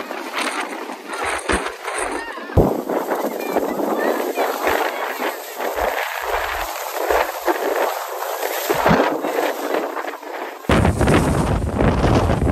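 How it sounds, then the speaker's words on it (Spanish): Strong gusting wind buffets the microphone on a crowded mountain in China, a loud continuous roar with rumbling low-end bursts as gusts hit, and people's voices faintly mixed in. "Hace tanto viento que hay gente que ha salido volando 2 o 3 metros."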